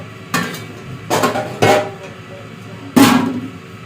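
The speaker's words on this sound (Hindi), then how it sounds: "छोटे छोटे बर्तन धोती हूँ।" Small dishes and utensils washed by hand give four sharp clinks and clatters spaced irregularly, close and fairly loud over a quiet background hum.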